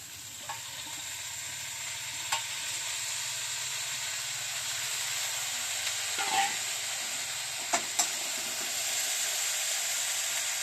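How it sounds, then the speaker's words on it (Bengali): Cabbage fries in spiced oil with a fish head, giving a steady, soft sizzle and hiss, with a few sharp clicks and scrapes of stirring against the pan. "এবার একটু নেড়ে দেবো, বাঁধাকপি দিলাম, দিয়ে একটু নেড়ে দেবো।"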